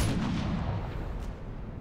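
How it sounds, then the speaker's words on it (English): Gunfire in the video game Modern Warfare 3 booms as a dense, rumbling burst of loud shots that rolls on with no break over a moment. "These bullets are quite loud."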